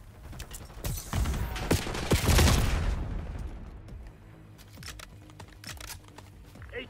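Bursts of automatic gunfire from a Black Ops 6 multiplayer match, a dense rattling volley building to a peak mid-clip, then scattered lighter shots and clicks trailing off.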